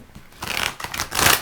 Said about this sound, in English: So I'm just going to go ahead and shuffle these guys